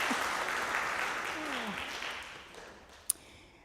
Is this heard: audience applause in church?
yes